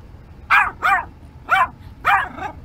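A Yorkshire Terrier barking four times in quick, uneven succession, sharp and close, with a quiet background between barks.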